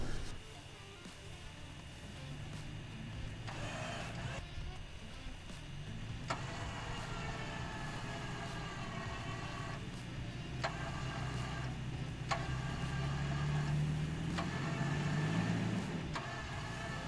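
A vehicle's engine runs with the throttle gently feathered while it winches itself out of soft sand in the dunes: a steady, close mid-pitched drone with a faint whine rising slightly toward the end, no voices.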